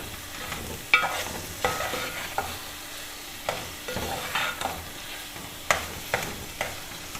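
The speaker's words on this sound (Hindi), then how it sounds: "और इसको अच्छी तरह भूनना है।" Minced meat keema being stir-fried with yogurt and masala in a pan, a soft sizzle broken by repeated scraping stirs at an uneven rhythm, close and moderately quiet with no talking.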